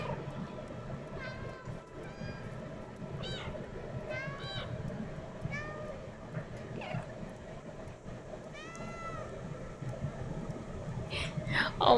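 A cat meows several times in the video game Stray, short rising-falling cries spaced over a low ambient background, with a person talking in between.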